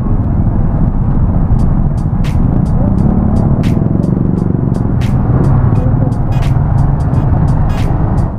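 Heavy road traffic in Cebu, a loud, continuous roar of cars and trucks with engine rumble and repeated sharp hissing bursts like air brakes or horns cutting through.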